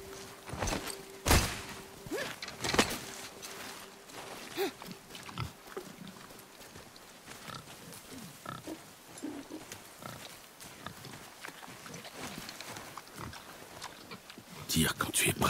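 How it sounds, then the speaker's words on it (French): A wild boar in God of War snorts and grunts in short rough bursts scattered across the stretch, mixed with footsteps and rustling, while voices speak in French over it. "Je savais que c'était un sanglier."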